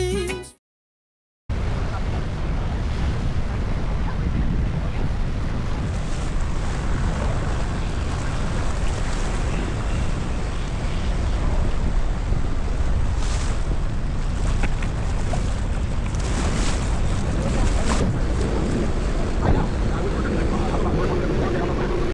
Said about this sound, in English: before our first stop is our boat ride in turquoise waters and the sun